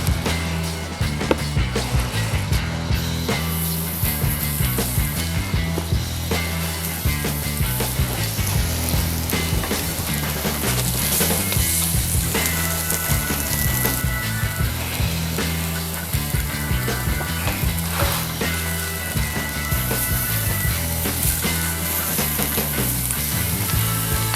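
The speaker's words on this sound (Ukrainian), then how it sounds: "Нарешті ми починаємо смажити м'ясо, викладаю його на рішітку." Veal rack sizzles and crackles steadily on a grill grate for a long stretch, with occasional scrapes and clinks of utensils.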